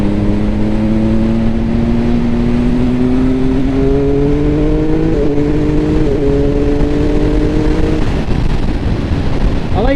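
A Triumph Speed Triple 1050 RS motorcycle rides along with a steady engine drone, rising in pitch before gear shifts, with wind noise over the ride.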